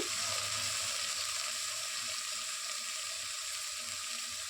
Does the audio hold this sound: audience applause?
no